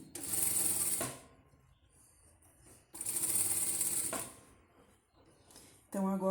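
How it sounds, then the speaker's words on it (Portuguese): Sewing machine stitching bias binding onto fabric for a baby bib, two loud, steady whirring runs of about a second each with a quiet pause between, then a third run starting at the end. "agora aqui nós vamos costurar até o limite da onde a gente começou"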